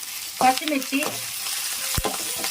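Green chillies and curry leaves frying in hot oil for amla rice, a sharp burst of sizzle at the start followed by a steady crackle and a few clinks of a stirring spoon, close and fairly loud.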